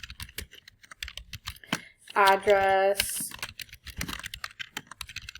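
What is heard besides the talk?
typing on a computer keyboard into a spreadsheet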